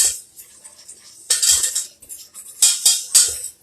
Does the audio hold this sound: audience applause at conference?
no